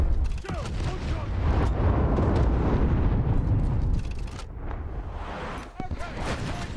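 Naval shell fire and explosions in the War Thunder Mobile game: heavy, rumbling blasts and booming shots roll together in a loud, sustained barrage, easing slightly before another sharp burst near the end.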